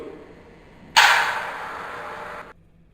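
Dynamics carts spring apart in a physics explosion demo, one sharp sudden snap followed by a hissing rolling rumble that lasts about a second and a half before stopping abruptly.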